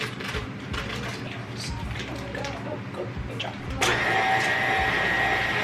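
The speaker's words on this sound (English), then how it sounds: "The butter is creaming." An electric mixer creams two sticks of softened unsalted butter for chocolate cupcakes, a steady whirring motor with rattling beaters that grows louder and brighter near the end.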